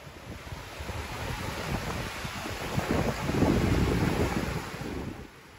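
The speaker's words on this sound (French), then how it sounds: "Aujourd'hui, Badger va à la plage." Beach surf and gusty wind roar steadily and fairly loud, with waves swelling and washing in a continuous broadband rush and no voices.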